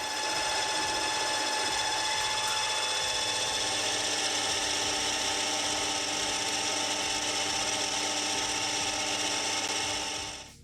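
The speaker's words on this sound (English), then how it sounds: "I'll just keep taking passes until the minor diameter matches the taper I measured earlier." A metal lathe turns steadily while taking cutting passes on a taper, giving a continuous mechanical whir with a faint rasping cut. It stays even and close for about ten seconds, then stops abruptly, with no talking.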